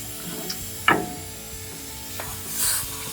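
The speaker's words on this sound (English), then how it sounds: "you can still tighten it with the ratchet" A ratchet tightens a strut bolt on a Ram 1500 while a Rough Country N3 front strut and 3-inch lift are fitted, giving a few sparse, quiet mechanical clicks and scrapes with no talking.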